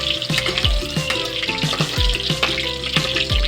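Potatoes and carrots frying in oil in a pan, a bright continuous sizzle broken by repeated thuds and scraping of a utensil stirring, close and fairly loud.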